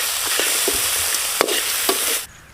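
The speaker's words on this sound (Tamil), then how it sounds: "நண்டு போட போகிறோம். நல்லா எண்ணெயிலே போட்டுடலாம்." Crab pieces for a South Indian crab fry hit hot oil in a pan with onion and tomato, giving a loud, steady sizzle broken by a few scraping stirs before the sizzling drops away near the end.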